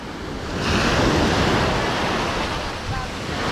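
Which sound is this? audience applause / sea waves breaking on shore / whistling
sea waves breaking on shore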